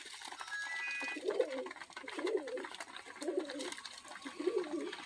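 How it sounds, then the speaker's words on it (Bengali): Imported-bloodline pigeons coo softly at night in a steady rhythm, about four low, rolling coos evenly spaced, with faint background hiss and no talking. "এখানে ইনপার্টেড ব্লাড লাইনের কবুতর আছে"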